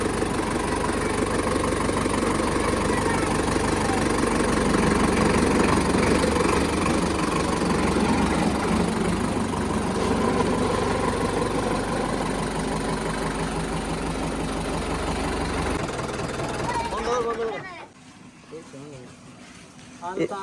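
A Sonalika tractor engine runs steadily at a low, heavy throb for most of the stretch, close and loud, with voices talking over it before the engine sound drops away near the end.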